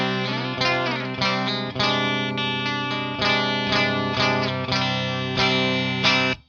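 Clean electric guitar on a cheap Stratocaster's bridge pickup, strummed in a steady rhythm of bright, twangy chords, each stroke ringing out before the next, played alone.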